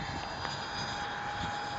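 An RC FF-22 EDF jet with a Detrum 64mm fan on 4S flying fast, a continuous high-pitched whining roar, steady and moderately loud with no talking.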